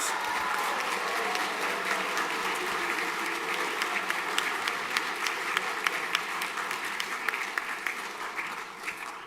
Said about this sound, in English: Big round of applause for Fitchett.